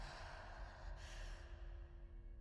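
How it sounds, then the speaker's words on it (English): Breathing plays as part of an ambience track, a faint, slow run of gasps and sighs over a low background drone with no one talking. "I hear that breathing."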